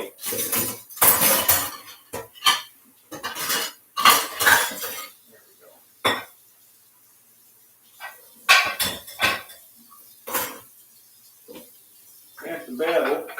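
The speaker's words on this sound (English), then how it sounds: "I've got to look at the dishes we got to do." Dishes are washed and arranged after a chili meal: cutlery, plates and glass clink and clatter in scattered bursts, some sharp and near, with quiet pauses between and people talking at times.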